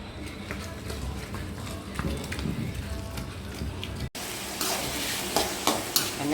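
Vada frying in hot oil in a pan while being stirred, continuous crackling sizzle with occasional scraping and clinks, close and moderately loud.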